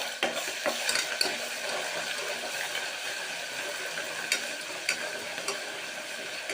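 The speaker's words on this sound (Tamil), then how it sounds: "இஞ்சி பூண்டு பேஸ்ட்டு இதோட சேர்க்குறேன். அப்போ தான் இந்த பச்சை வாசனை போட்டு இந்த எண்ணெயில் போட்டு நல்லா வதக்கின்றேன்." Ginger garlic paste sautés in hot oil inside a pressure cooker, a steady crackling sizzle with occasional scrapes and clinks of a stirring spoon against the metal pot.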